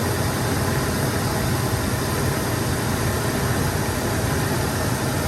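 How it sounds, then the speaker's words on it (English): A 1961 Buick Electra's Wildcat 445 nailhead big block V8 runs steadily, a dense continuous rumble with low throb and broad hiss that holds even and loud throughout, no talking. "Some people never even seen the Buick Wildcat 445 motor. This Buick's big block motor"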